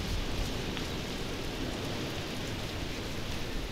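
Strong dry wind gusts around a house, stirring up dust. It makes a steady, close, broadband roar for the whole stretch, with no voices over it.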